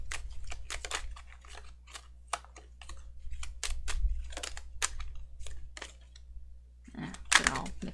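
Tarot cards are shuffled in a quick series of crisp, close riffling clicks and taps, with a brief pause before a final flurry.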